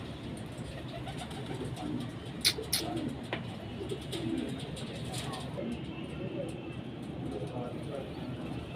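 Pigeons coo softly in a loft or coop, faint low murmuring calls with a few brief sharper sounds, while people talk nearby.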